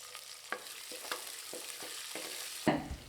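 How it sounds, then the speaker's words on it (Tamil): Onions sizzle and fry in a pan while a utensil stirs and scrapes repeatedly, with a sharper clatter near the end. "வெங்காயத்தை நல்லா வதக்கி விட்டுக்கலாங்க"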